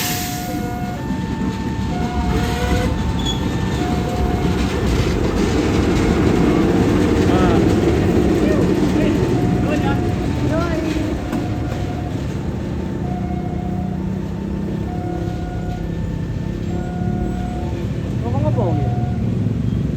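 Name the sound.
locomotive entering station track 3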